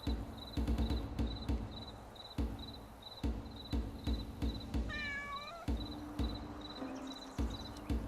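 A cat meowing in the video game Where Winds Meet, a single short rising meow near the middle over a steady backdrop of chirping insects and repeated soft tapping footsteps.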